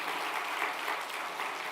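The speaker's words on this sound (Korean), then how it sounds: "박수로 한번" A church congregation at a Sunday service applauds together in a dense, steady round of clapping that sounds near and fills the room.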